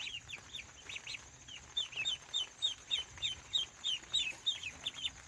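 Meat-bird chicks and bigger ducks in an outdoor pen keep up a steady, rhythmic string of high peeping chirps, moderately close, with no talking.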